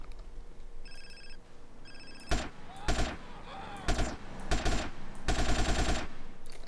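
Gunfire in GTA San Andreas: a few loud, separate bursts of shots, each short and sharp with brief gaps between, over game background noise, with ringing electronic tones near the start.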